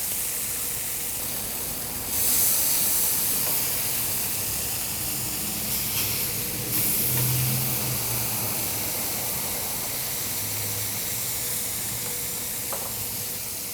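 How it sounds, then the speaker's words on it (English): Wagyu smash burger patties sear on a Fusion griddle with a constant, dense hiss and crackle, close and even throughout, swelling slightly a few times. "we're getting a nice sear on there"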